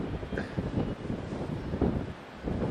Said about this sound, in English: It's a little bit windy up here, Polly, so it's like blowing a gale.